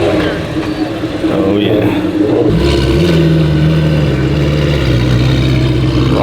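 A Ferrari engine revs as the car drives out of a workshop open house, a loud close growl that settles into a steady throaty drone, with people talking briefly over it.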